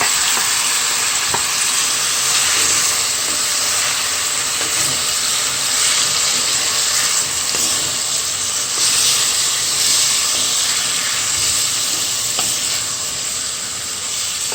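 Saltfish frying in a pan with green seasonings for ackee and saltfish makes a loud, continuous, close hiss and sizzle with steady crackle throughout and no voices.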